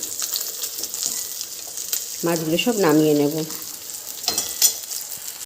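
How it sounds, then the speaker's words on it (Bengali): Fish frying in oil in a pan gives a steady, close sizzle that runs the whole way through, with someone speaking briefly in the middle. "মাছ আমার সব ভাজা হয়ে গেছে আমরা একটু কড়া মাছ মানে মাছটা একটু কড়া খাই"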